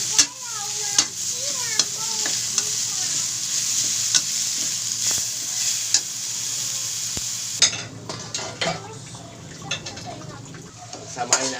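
Small shrimp sautéing and sizzling in a pan for a mung bean (monggo) dish, a steady frying hiss with stirring scrapes, and a voice talks over the first part.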